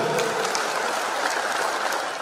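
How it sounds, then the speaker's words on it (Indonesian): Applause from the audience at a community gathering for a halal bihalal and inauguration event, a dense crackle of many hands clapping, steady and moderately distant throughout. "tepuk tangan dulu"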